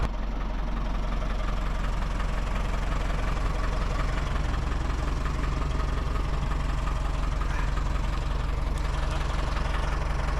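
A tractor engine idles steadily and close by on a ranch, a low continuous rumble with a faint knocking throb running unbroken throughout, with no voices over it.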